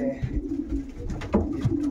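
A racing pigeon at a Silesian loft gives a short burst of low, throaty cooing, close and fairly loud, with a couple of soft pulsing coos in under two seconds.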